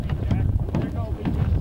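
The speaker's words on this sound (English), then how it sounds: "It's windy and cold out here." Cold wind buffets a microphone outdoors on open land, a steady low rumbling roar running the whole time with gusty swells.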